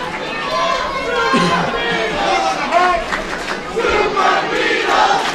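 A wrestling arena crowd at an EWF anniversary event chants and shouts in rhythmic waves, loud and close, with voices rising and falling in repeated calls.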